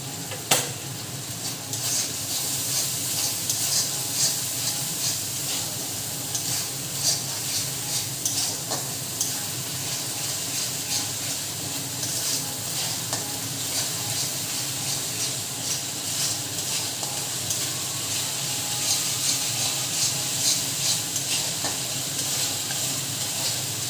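Kashmiri red chili frying in hot oil with turmeric for aloo dum, a loud, steady, close sizzle and hiss that carries on throughout with faint stirring scrapes.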